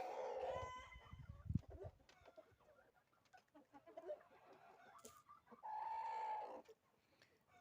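Hens cluck and call softly nearby in short bursts, with a couple of longer drawn-out squawks and scattered shuffling in between.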